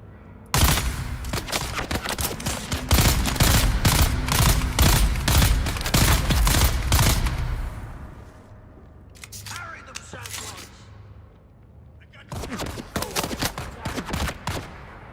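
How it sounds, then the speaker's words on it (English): Gunfire in the survival game Dune Awakening: a fast, loud string of close shots for several seconds, then scattered fainter shots and clinks, and another short burst near the end. "That guy's shooting me through a blanket."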